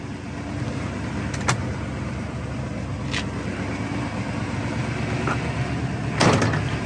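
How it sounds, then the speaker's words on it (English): Car doors on a 1977 Chevy Monte Carlo opening and closing, a few sharp clunks and latch clicks over a steady background hum, the loudest slam near the end. "Doors open and close perfect."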